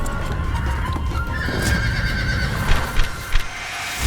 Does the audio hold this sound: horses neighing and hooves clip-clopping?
yes